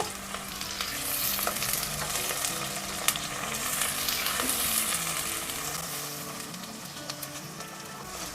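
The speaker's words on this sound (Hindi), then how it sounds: "पीसा अदरक लहसुन का पेस्ट डालेंगे और हल्का सा इसे भी फ्राई करेंगे" Ginger garlic paste sizzles and fries steadily in a pan, with occasional stirring scrapes, no voices.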